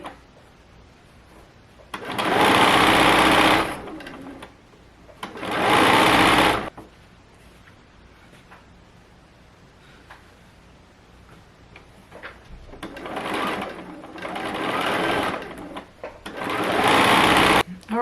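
A sewing machine stitches a quilt strip in four loud, close bursts of rapid mechanical whirring and ticking, separated by quieter pauses where a person talks.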